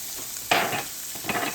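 A small amount of chopped white onion hits olive oil in a frying pan, giving a sudden close sizzle that settles into a steady crackle, with a second burst of stirring sizzle near the end.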